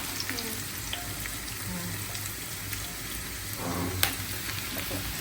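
Potatoes fry in oil for aloo bhaji, giving a continuous sizzle with a constant low hum underneath and a few clinks, one sharp knock near the end, no talking.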